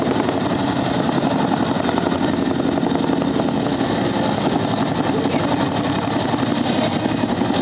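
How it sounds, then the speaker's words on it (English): Chinook heavy lift helicopter of 127 Squadron at an air show, its twin rotors throbbing in a dense, constant roar with a rapid beating pulse throughout. "Chinook heavy lift helicopter from 127 Squadron."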